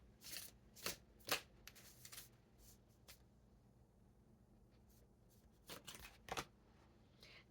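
Tarot cards are shuffled by hand in soft, riffling bursts, a few quick flurries separated by quiet pauses, close and gentle with no voice.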